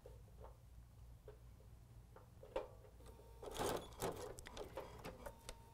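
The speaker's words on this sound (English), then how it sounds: "Sewing very close to the edge. Let me backstitch just a touch here." A sewing machine stitches fabric close to the edge and briefly backstitches, giving a soft rapid mechanical whir with small clicks. It runs quietly and steadily, with no talk over it.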